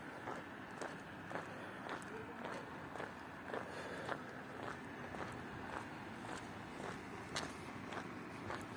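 Steady footsteps crunch along at an even walking pace, about two steps per second, faint against a soft constant outdoor hiss.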